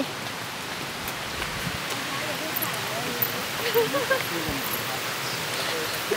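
A steady wash of rushing water from a distant waterfall in Vang Vieng, Laos, broad and hissing, with faint rustles and a few soft voices underneath.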